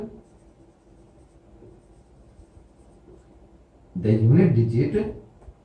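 Marker or pen scratching on a board during a Hindi-language math lesson on divisibility tests. The writing is quiet and steady for about four seconds, then a louder burst, probably a teacher's voice, covers it near the end.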